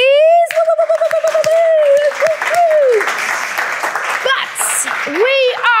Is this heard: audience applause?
yes